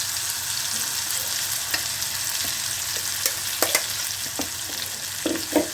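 Mango chutney stirred into hot tempering oil in a pan, giving a steady close sizzle of frying with scraping spoon strokes and a few sharper clinks, no talking.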